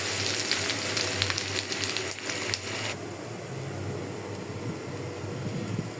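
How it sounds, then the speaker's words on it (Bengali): Green beans (borboti) frying in a pan sizzle steadily and fairly loud, with a brighter crackling burst over the first few seconds that then settles into a softer continuous hiss; no one speaks. "আর এখানে মাংসটা নামায়া আমি বরবটি ভাজিটা বসাই দিলাম।"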